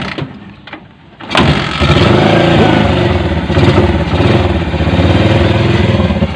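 A Bajaj CT 100 motorcycle with a loss-of-compression fault cranks and catches, then the single-cylinder engine roars into a loud, close rev and holds a rough, busy idle with slight surges.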